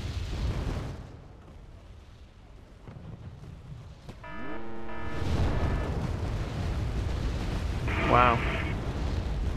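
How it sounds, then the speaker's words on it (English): Artillery barrages and explosions in the video game Wargame AirLand Battle, heavy booms and bursts rolling over continuous battle noise with a voice speaking over them. "That artillery's just destroyed all my things rather quickly."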